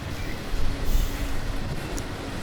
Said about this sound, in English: After the intermodal train came on by